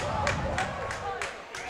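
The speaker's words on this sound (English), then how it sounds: "crowd get a little wild on that." A girls varsity high school basketball crowd roars after an offensive foul call, a dense, steady swell of cheering and babble with scattered claps at roughly even volume throughout.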